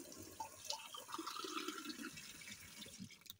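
Water trickling and filling in a mock Among Us 'fill the water' task, a light, steady liquid sound with drips that runs alone for a few seconds at moderate volume.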